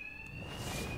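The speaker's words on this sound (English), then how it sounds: "Two-Face's thugs won't hear me over the alarm." An alarm rings during a bank robbery in the video game Batman: Arkham Knight, a steady high electronic tone sustained over dense, noisy game ambience, with no voices.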